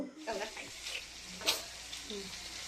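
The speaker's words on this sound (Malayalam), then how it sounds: "ഇത് നന്നായിട്ട് ഇളക്കുക" Chicken stirred and sautéed with tomato and chili in a hot pan for chicken sukka, a steady sizzle broken by a few scraping stirs of the spoon, close and fairly quiet.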